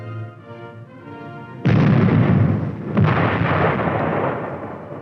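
An M48 Patton tank's 90mm main gun fires with a sudden loud boom, followed by a rumbling roar and a second blast about a second later, set against low engine drone.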